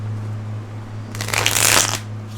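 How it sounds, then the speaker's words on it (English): A deck of tarot cards gets one quick riffle shuffle, a close, crisp burst of fluttering card flicks lasting under a second against a low steady hum, with no talking. "let's do one more little crispy shuffle here."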